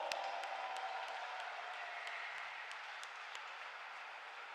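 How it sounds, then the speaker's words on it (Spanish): A crowd at a youth basketball championship final gives sustained applause, heard as a steady wash of distant clapping with a few sharper claps standing out. "voy a pedir un fuertísimo aplauso para este público tan maravilloso"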